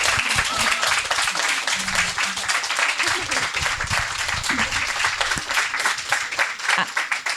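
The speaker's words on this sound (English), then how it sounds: "Can we just give them a round of applause" An audience applauds at the close of a panel talk on women's health, dense steady clapping from many hands, loud and sustained across the whole stretch, with some voices mixed in.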